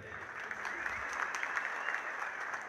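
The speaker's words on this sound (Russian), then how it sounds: "Под аплодисменты." An audience at a professional fighting event applauds as the president of the Asian fighting league is introduced, a continuous, fairly close wash of crowd clapping with no voices over it.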